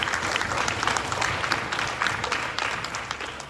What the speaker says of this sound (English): a big round of applause to yourself. All the students.